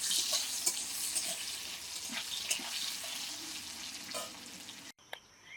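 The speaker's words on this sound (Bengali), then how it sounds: "আলুগুলো ভেজে নেব। একটুখানি লবণ দেবো।" Potatoes fry in a pan with a pinch of salt, giving a continuous bright sizzle broken by stirring scrapes, before the sound cuts off abruptly near the end.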